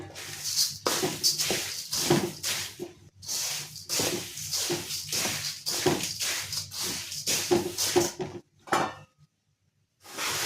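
Puffed rice snack being stirred in a frying pan, with a repeated scraping and rustling of the spoon against the pan in quick strokes, fairly close, ending in a short pause.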